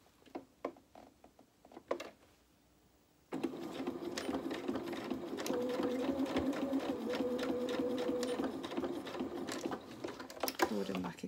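After a few clicks and handling taps, a sewing machine runs steadily for several seconds, stitching a T-shirt dress sleeve laid flat on the bed, with a whirring motor and rapid needle rattle, then stops near the end.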